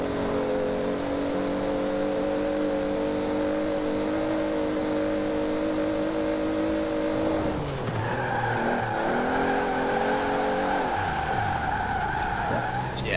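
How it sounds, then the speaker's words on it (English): Hot Wheels 2JetZ, a 2018 rear-wheel-drive car in Forza Horizon 4, holds a loud, steady engine drone, then shifts pitch partway through as revs climb and tires squeal in a slide, with no talking over it. "I'll let you listen to the engine for a little bit"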